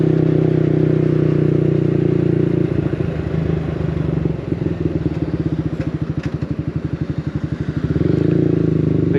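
A Yamaha MT-125 motorcycle accelerates hard on a motorway during a top speed run, its small engine droning steadily before breaking into a fast, rattling pulse as revs climb, then smoothing out again, heard close with wind.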